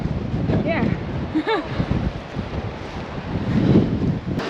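Strong gusting wind buffets the microphone on an exposed hillside walk at Winnats Pass near Castleton, a steady roar that swells and dips throughout while voices talk faintly underneath.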